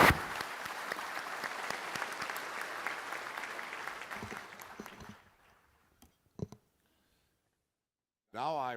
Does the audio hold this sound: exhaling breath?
no